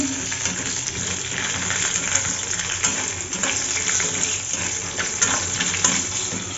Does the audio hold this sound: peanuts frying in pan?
yes